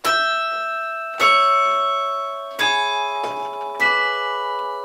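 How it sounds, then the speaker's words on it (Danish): Large carillon bells in a Danish church, played from the console, four loud struck chords spaced about a second apart, each ringing with a long shimmering decay, no voices. "det er et stort klokkespil, som det meget jævnligt bliver spillet på"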